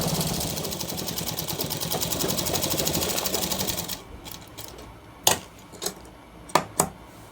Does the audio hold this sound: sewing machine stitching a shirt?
yes